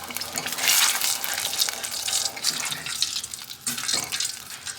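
Food for shrimp parm is stirred in a hot pan, giving a steady close sizzle broken by scraping and clattering bursts from the stirring.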